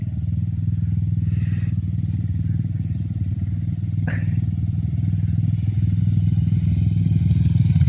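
A Loncin 150 motorcycle engine drones steadily while riding over jumps, close and continuous, with brief clatter and thumps from landings.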